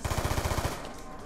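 Rapid automatic gunfire in Black Ops 2 Zombies on the Town map, a fast even burst of about ten shots that stops abruptly and leaves low background noise.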